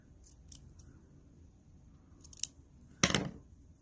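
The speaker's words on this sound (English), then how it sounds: "take your brown fabric and cut a little feather" Scissors cut brown fabric into a small feather shape, a few light snips followed by a louder, longer crunchy cut, close and alone in a quiet room.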